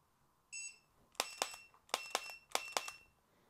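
A Laser Ammo I-MTTS shot timer sounds a single tonal start beep, followed by six sharp, quick shot-like clicks in three pairs, each with a brief ringing tone, all faint and fairly close in a quiet room.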